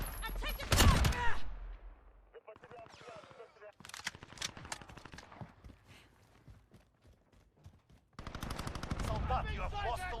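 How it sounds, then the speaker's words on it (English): Automatic gunfire in the Call of Duty Modern Warfare beta, rapid bursts of shots near the start and again at the end, with sparser clicks and thuds in the quieter middle. "I'm taking fire."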